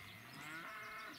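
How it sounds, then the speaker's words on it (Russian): Cows at a village pasture give a low, drawn-out moo that sounds faint and fairly distant against quiet open-air background. "Вот сколько здесь коров."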